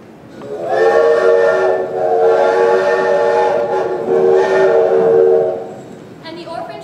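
An orphan train rolls out of a city around 1918, its steam whistle sounding loud and near in a long, wavering blast that fades and swells several times over the rumble of the moving train.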